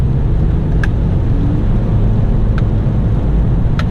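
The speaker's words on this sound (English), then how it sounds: "if you accelerate lightly, the engine doesn't have to work very hard and it just upshifts as soon as it can" A 2017 Acura ILX accelerates lightly on poor road conditions and upshifts early, producing a loud, steady low engine and road drone with a few brief clicks.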